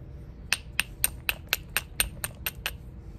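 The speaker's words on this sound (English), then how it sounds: "so let's use the hammer stone" A hammer stone striking stone during flintknapping, about ten sharp, evenly spaced taps in quick succession, close and crisp over a faint low background hum.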